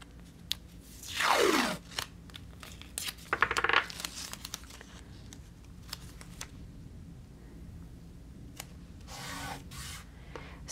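Papers are taped down for crafting, with quick ripping pulls of tape, scattered taps and rustles of paper and a couple of longer tearing strips, all quiet and close with no talk.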